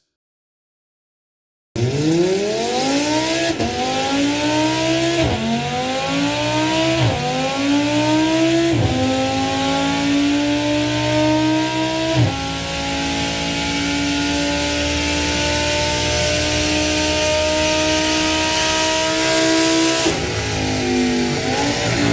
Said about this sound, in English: Horsepower, a screaming redline, and that unmistakable V10 howl.